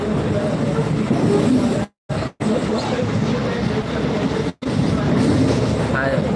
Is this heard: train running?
yes